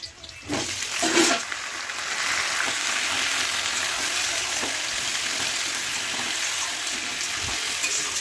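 Potatoes and taro land in a pan of frying onions, and a rush of loud sizzling follows. A brief clatter comes first, then a steady, close hiss with no talking.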